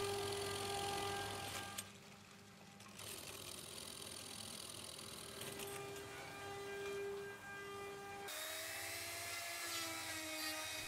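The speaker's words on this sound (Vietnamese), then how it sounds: "Sau khi khoan hình dạng theo từng loại khuôn" A drill carves a wooden mooncake mold, giving off a high whining buzz that shifts in pitch and load as the bit bites into the wood, with brief breaks between cuts.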